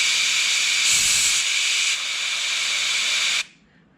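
Mist coolant sprays on a Quorn tool and cutter grinder as a collet is split, a loud, steady airy hiss that drops in level partway through and then cuts off abruptly near the end.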